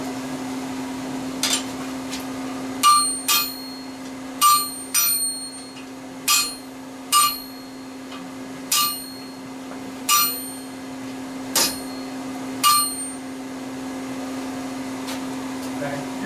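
A hammer strikes a knife blade on an anvil to straighten it, about a dozen sharp ringing metallic blows spaced a second or so apart, loud and close, over a steady electrical hum.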